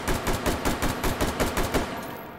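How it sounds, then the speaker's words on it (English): An AR-15 SBR carbine in H3VR fires a rapid string of about ten close, loud shots at an even rhythm. The shots stop abruptly, followed by a brief quiet tail. "When you fire it, let's see if it locks open on empty."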